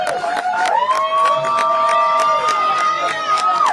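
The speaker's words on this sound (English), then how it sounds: "Quit clapping." An election night party crowd claps and cheers, with sharp, rhythmic claps cutting through sustained shouting and cheering voices that swell and hold for several seconds.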